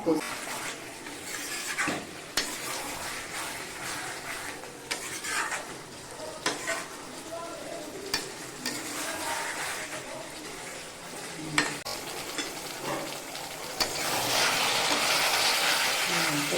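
Meat being stirred and fried down in a pan for a curry, with a continuous sizzle broken by repeated scraping and clinking of a spatula against the pan, close up; a voice speaks briefly.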